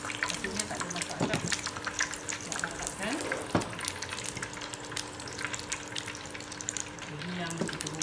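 Oil sizzles and crackles steadily as tofu fries close by in a pot, with occasional clinks and scraping of a utensil.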